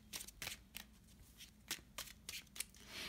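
Tarot cards are shuffled to pull a clarifier card, with a quiet close run of crisp riffling flicks and irregular card slaps, no talking.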